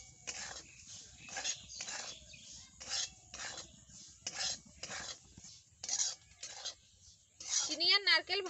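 Roasted semolina is stirred with grated coconut and sugar in a pan, heard as a quiet, rhythmic series of scraping strokes, with a brief vocal sound near the end.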